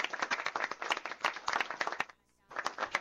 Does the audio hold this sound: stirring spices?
no